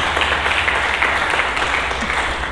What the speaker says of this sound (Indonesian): Berikan tepuk tangan bagi Yesus Kristus.